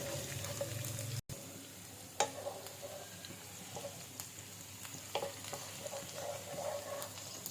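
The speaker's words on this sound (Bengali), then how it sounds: "তেলটা গরম হলে আমি দিয়ে দিচ্ছি মরিচ এবং পেঁয়াজ কুচি" Dried chilli and chopped onion fry in hot oil in a pan for a ridged gourd dish, a steady soft sizzle broken by a sharp clatter and a few utensil taps and stirring scrapes.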